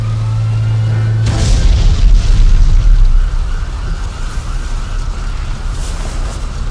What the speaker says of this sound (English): the garage exploded